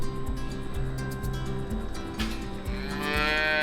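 Dairy cows in a barn moo in long, loud, overlapping low calls, one after another, with a busy barn hum behind them.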